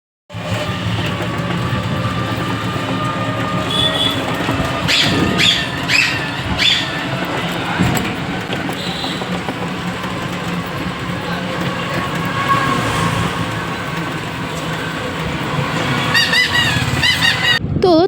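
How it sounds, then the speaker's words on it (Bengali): A toto e-rickshaw rattles loudly over a badly broken road, a constant close clattering and motor drone with jolting knocks throughout, and faint voices buried in the din. "তোমরা তো দেখতেই পেলে বন্ধুরা টোটোতে কতটা আওয়াজ হচ্ছে"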